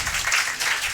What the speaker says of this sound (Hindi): ताली मत बजाओ भाई, गायक नहीं हो।